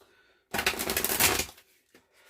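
A single burst of rapid riffling and fluttering as a deck of cards is shuffled, about a second long, close by and fairly loud, followed by quiet.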